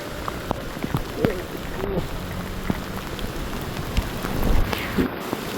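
Steady rain patters over the grounds of Nallur temple in Jaffna, a dense close hiss with scattered louder drops and faint voices in the background.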